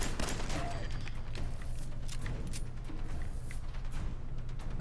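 Rapid gunfire in Fallout 4 rattles continuously through the whole stretch, a steady dense barrage with a low rumbling bed beneath, with no voices over it.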